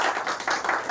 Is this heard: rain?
no